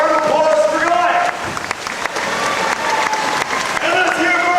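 Audience applause for a volunteer named Goliath at a Disney Florida show, a dense steady burst of clapping and crowd noise with voices mixed in.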